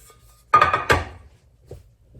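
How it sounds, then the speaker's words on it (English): A Lodge cast iron bread pan is handled, giving two sharp metallic knocks close together followed by a faint lighter clink, with quiet stillness between. "bringing out the Lodge cast iron bread pan"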